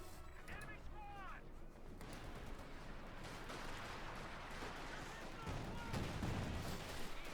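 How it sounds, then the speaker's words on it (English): Dense gunfire and rumbling battle noise from Company of Heroes 2, a World War II strategy game match of Wehrmacht against US forces, runs steadily throughout, with game voices briefly heard early on. "More shots fired."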